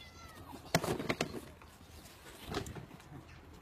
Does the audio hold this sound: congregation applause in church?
no